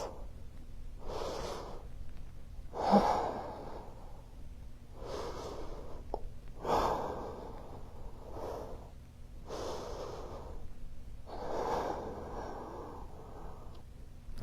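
Deep, forceful breaths during a bodyweight bootcamp exercise hold, about seven slow inhale-exhale cycles, close to the mic, rhythmic and slightly snorting, with no talking.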